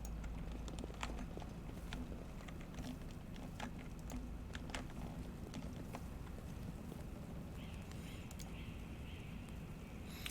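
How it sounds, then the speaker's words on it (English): Horses trot in the fantasy game Pathfinder: Wrath of the Righteous, a faint, steady patter of hoofbeats under a wind-like background hiss. "Some nasty horses."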